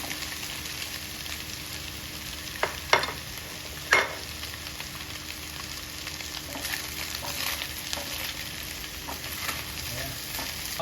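Fish and tofu sauté in a pan for fish sisig, a continuous close sizzle with a few sharp utensil knocks and scrapes, no one speaking.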